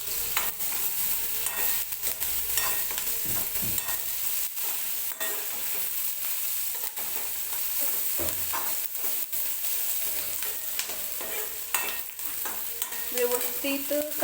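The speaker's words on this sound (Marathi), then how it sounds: "पण आज मी फ्राय करून बनवणार आहे पनीर." Paneer fries in oil in a pan, giving a loud, steady sizzle that lasts throughout, broken by occasional clicks and scrapes of stirring.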